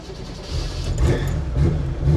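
A Porsche engine's deep exhaust note rumbles close by, swelling in a couple of throaty pulses.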